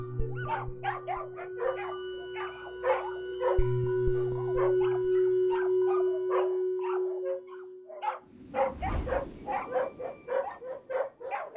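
Several Spanish greyhounds at a shelter bark and howl together, with repeated yips and barks over long sustained howls that give way to a denser burst of barking near the end.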